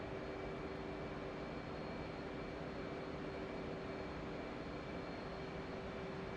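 An F/A-18C jet engine roars at full afterburner during takeoff in DCS World, a steady, loud broadband rush with a constant whine, unbroken and without voices.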